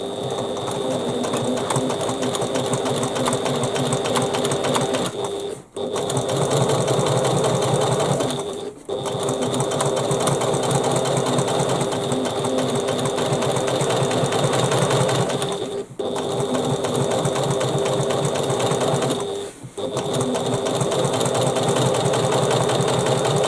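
Close, loud sewing machine whirr top stitching bag panels, running in long steady bursts broken by four brief pauses, with no one talking.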